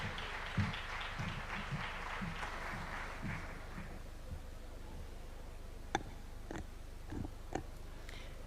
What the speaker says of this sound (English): A good clap for her, please